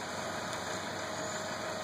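A tractor engine runs steadily while moving an Airstream trailer, a continuous close mechanical drone with a constant level and no pauses.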